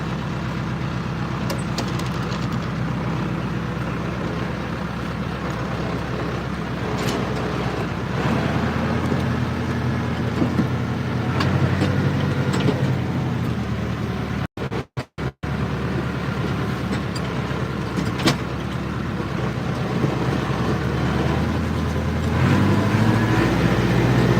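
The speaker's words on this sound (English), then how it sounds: "tractor ride back up the road?" A farm tractor rumbles along a wet country road in a steady low drone, with a few brief dropouts midway and the engine note shifting near the end; no one speaks.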